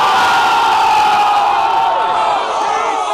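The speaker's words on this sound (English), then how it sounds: "Can I get another ooh sound effect?" A studio crowd lets out a loud, sustained collective "ooh" that holds steady for about three seconds before tailing off slightly, with a few voices whooping within the group.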